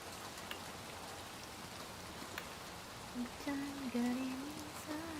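Steady rain pours across the whole scene in the video game Little Nightmares II, a close, even hiss with a few louder drops, and faint bits of talk rise near the end.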